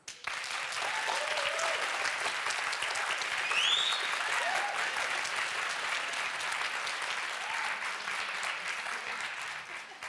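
A debate audience claps to cast a vote, sustained, even applause from a large hall that runs for about ten seconds, with a few faint voices and whistles mixed in.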